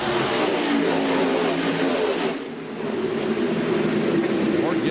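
From the onboard camera of the NAPA Auto Parts car, a NASCAR stock car engine at the 1999 California 500 holds a loud, steady high-revving roar with a brief dip midway. Commentary voices run beneath it.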